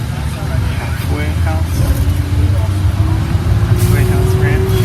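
Road traffic passes near Roswell, New Mexico, as a continuous car and engine rumble with a rising whine from a passing vehicle, loud and close, while people talk over it.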